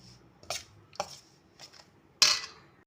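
Suji tikki batter with cardamom and baking powder being mixed in a bowl: a few separate scraping, clinking strokes about half a second apart, then a sharper, louder knock near the end, close and fairly quiet with no talk.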